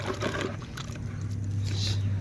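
Water poured into a jeevamrutham mixture being mixed with gram flour into a paste: a short trickling pour over a steady low hum, with people talking.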